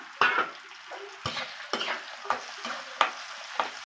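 Curry leaves and garlic fry softly in oil in a pan while a spoon scrapes and stirs in several sharp strokes, close by, then the sound stops abruptly.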